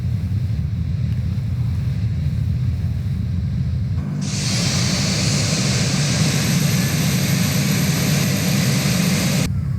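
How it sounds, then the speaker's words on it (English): A jet engine spooling up in Microsoft Flight Simulator 2024, a steady low rumble joined midway by a loud rising whine that holds steady and then cuts off abruptly near the end. "Ignition start. Engine number 1 start."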